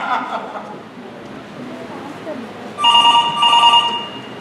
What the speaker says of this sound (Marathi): फोन काही थांबत नाही.